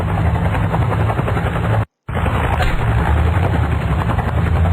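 A helicopter in a first-person shooter video game roars loud and close with a continuous rotor drone that cuts out abruptly for a split second, then resumes just as loud, with faint gunfire mixed in.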